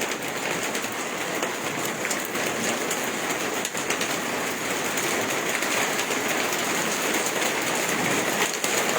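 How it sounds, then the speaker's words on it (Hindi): Heavy rain pours steadily in a dense, unbroken hiss, loud and close throughout, with no voices. "बारिश अपनी इंटेंसिटी"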